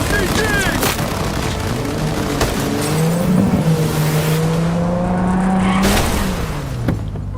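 Car engine in the game Cyberpunk 2077 drones and revs steadily close by, pitch rising and falling, with brief tire noise, while voices shout over it.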